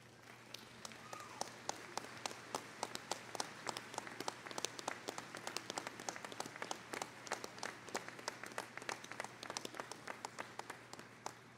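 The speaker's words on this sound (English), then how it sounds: "round of applause." A commencement audience gives a round of applause for the faculty and staff. Dense, steady clapping from a large crowd runs unbroken for about eleven seconds.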